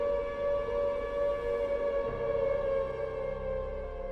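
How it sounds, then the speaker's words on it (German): A sustained wailing siren drones continuously in a hospital setting in a psychological horror video game, a steady eerie tone with a low rumble beneath it, no voices present. "Das erkenne ich, indem ich wieder die Sirene höre"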